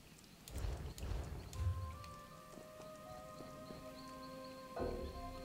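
Horse hooves clip-clopping in Elder Scrolls Online, a few clear hollow clops in the opening seconds, followed by a quieter backdrop of sustained tonal game ambience.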